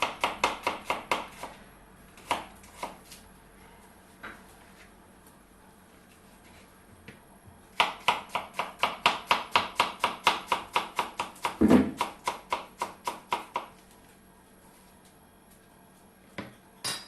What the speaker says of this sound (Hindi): चॉप अनियन जितना फाइन कर सकते हैं उतना फाइन करिएगा